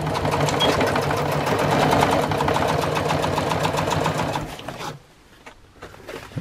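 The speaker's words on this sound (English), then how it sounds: "where you cut and run the sewing machine through here and stitch this up so it can't rip down the seam" A sewing machine runs steadily, stitching the seam of a sleeping bag stuff sack with a rapid, even mechanical chatter, then stops abruptly near the end, leaving quiet.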